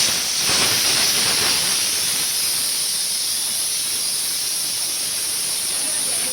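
A pressure cooker whistle, cooking lentils, lets out a loud, continuous hiss of steam that holds steady for several seconds, with no voices.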